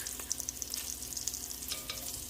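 Bacon fries in a pan for beef bourguignon, a loud, dense sizzle with rapid popping and spitting crackles throughout.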